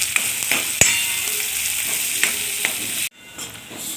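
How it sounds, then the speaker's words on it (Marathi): Onion fries in hot oil with curry leaves while a spoon works through it, giving a close, dense sizzle with a few scraping knocks before the sound suddenly drops to a quieter hiss near the end. "कांदा आपल्याला हलका गुलाबी रंग बदलेपर्यंत चांगला असा भाजून घ्यायचा आहे"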